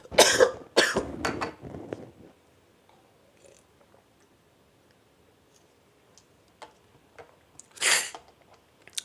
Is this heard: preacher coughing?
yes